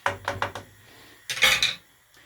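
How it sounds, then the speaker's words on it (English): Vegetables for a curried parsnip soup are stirred in a cooking pan: a few quick scraping clinks, a pause, then a louder, longer scrape of the utensil against the pan. "Okay, right, stir those in."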